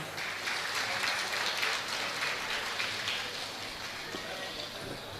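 An audience claps to welcome a performer at a Bharatanatyam arangetram debut recital, a soft, continuous spatter of applause heard from a distance, fairly quiet and without speech.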